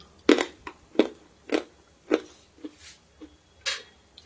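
Crisp homemade fried rice snack crunched between the teeth in about eight sharp, close bites spaced roughly half a second apart, with quiet chewing between them and no talk.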